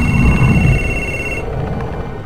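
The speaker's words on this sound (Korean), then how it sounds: "전화." A telephone rings in the game Beyond: Two Souls, a steady electronic tone sounding for about a second and a half before cutting off, then fading into quieter room ambience.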